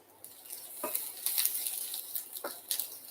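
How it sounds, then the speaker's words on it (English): Aubergine frying in oil in a pan gives a faint, steady sizzling hiss, with a couple of soft clicks and pops, heard alone and close by. "Frying the aubergine there"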